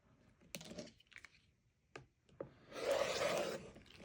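Sewn quilt fabric squares are cut diagonally, heard as quiet taps and handling noises followed by a longer rasping slice through layered cloth, close and fairly faint in an otherwise quiet room.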